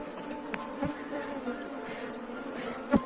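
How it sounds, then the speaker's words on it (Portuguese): A honeybee swarm near the hive produces a steady, faint buzzing drone, with individual bees zipping close past the microphone now and then. "O enxame aqui é um pouco mais agressivo que o normal."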